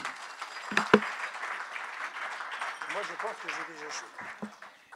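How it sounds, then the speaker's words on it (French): Audience applause at an evening talk in French, celebrating the host's birthday: steady, moderately loud clapping throughout, with a few sharper claps early and a voice speaking over it midway. "Donc je pense qu'on peut applaudir Nadine."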